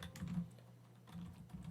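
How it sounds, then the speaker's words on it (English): Faint keystrokes tap on a computer keyboard in a quick, uneven burst of a few presses, very quiet and close, with no voices. "To do that, we will type notepad"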